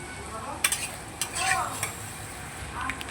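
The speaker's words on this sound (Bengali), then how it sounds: "এবার মশলাটাকে একটু লবণ হলুদ দিয়ে কষিয়ে নেব।" A spatula scrapes and stirs spice paste with salt and turmeric frying in a pan, giving short bright scraping bursts over a faint, low sizzle, close to the listener.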